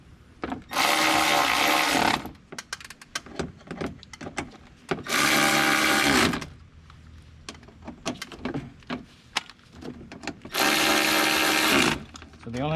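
A power tool tightens window regulator bolts inside the door of a 2011–2014 Chrysler 200, running in three loud, sustained bursts of about one to two seconds each, separated by quieter clanks and handling noises.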